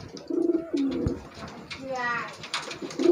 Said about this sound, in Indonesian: Nih merpatinya. Nih jantan ya teman-teman.